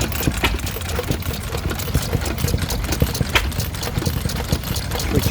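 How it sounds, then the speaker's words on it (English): A small Tom Senior open-crank stationary gas engine driving a dynamo runs at a steam rally, its rapid, steady mechanical chuffing and clatter close by amid outdoor background noise, with no speech. "open crank gas engine"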